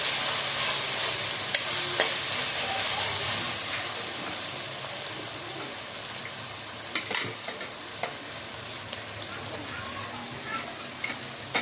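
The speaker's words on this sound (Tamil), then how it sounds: "பச்சை வாடை போகிற வரைக்கும் நல்லா வதங்கட்டும்." Ginger-garlic paste sautés in a pan for soya kofta white kuruma, a constant bright sizzle with occasional spoon scrapes and knocks against the pan, close and steady, with no talk.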